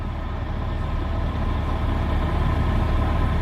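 A Chevrolet C8 Corvette's rear-mounted engine idles with a steady, loud low rumble and constant hum, unchanging throughout and with no voices.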